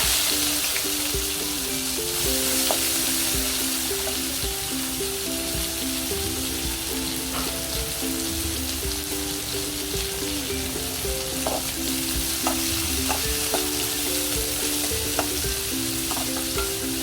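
Onions sizzling as they fry in a pan for savoury paniyaram, a loud, constant hiss with fine crackles and occasional spatula scrapes running throughout, no voices.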